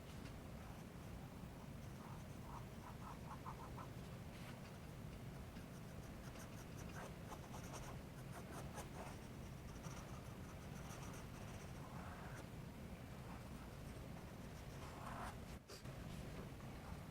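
Pencil sketching on paper during an art demonstration: soft, faint scratching strokes in short bursts and longer runs, close and quiet, with no voices.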